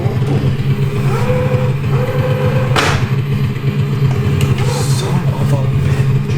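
A car engine revs as the gas is pressed, a loud mid-pitched roar with rising and falling surges under steady rumble, close by, with a sharp clatter partway through.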